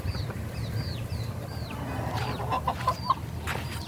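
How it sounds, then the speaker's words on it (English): Chickens cluck and chirp nearby in short bursts over a low steady background hum, with a few sharper squawks toward the end. "You can watch my chickens until then."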